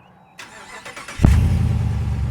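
A 2022 Jeep Wagoneer engine cranks briefly, then catches and settles into a loud, steady running rumble, heard up close.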